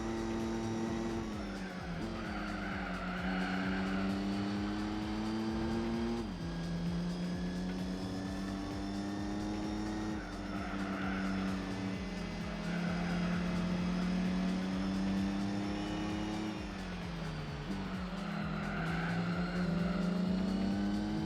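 Race cars in Gran Turismo 4 on PS2 roar steadily throughout, engine notes rising and dropping with gear shifts across several cycles, loud and continuous with other cars close by and no talking.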